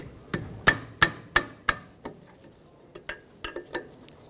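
A 10mm wrench breaks free a brake caliper slider pin bolt on a 2009-2011 Ford F-150, heard as a series of sharp metallic clacks and knocks, about five strong ones followed by fainter taps, close up with no talk.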